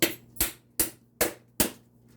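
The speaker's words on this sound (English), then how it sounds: "I'm just gonna use my hammer here right now and crack it" Five sharp hammer strikes cracking a coconut shell, evenly spaced about every 0.4 seconds, close up with a brief ringing decay after each blow.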